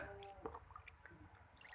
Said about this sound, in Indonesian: Nah, sekarang kita siram.